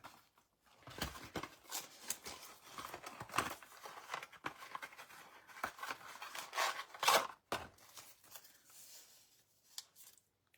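Scissors trim paper card for a handmade greeting card bow, a run of close, crisp snips and papery rustles in irregular bursts, with quieter handling between cuts.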